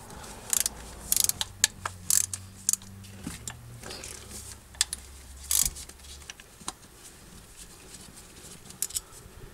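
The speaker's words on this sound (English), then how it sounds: "Then we can loosen and remove this 10 millimeter bolt that holds in each coil." Ratchet working on a 10 mm coil bolt under the hood of a 2004 Toyota Tundra during a spark plug change, with short clicking bursts and scattered metallic taps, fairly faint and close, no talking.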